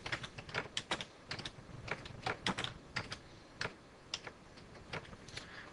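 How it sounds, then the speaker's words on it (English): Text being typed on a computer keyboard, with irregular bursts of crisp key clicks close by in a quiet room and no voices. "So I'm going to go ahead and type that in."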